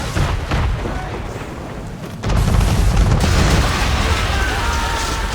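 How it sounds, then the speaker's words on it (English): In Assassin's Creed III, man-of-war cannons on a naval battle ship fire in heavy, loud booms over a constant roaring wash of battle noise, with a brief lull and then a stronger surge. "Man of war firing!"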